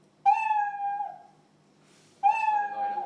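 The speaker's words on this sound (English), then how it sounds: "I actually want to attach sound because I actually want it to meow" Two recorded cat meows played back in a Scratch program, each a clear, close, drawn-out tonal call separated by a short pause, loud and alone.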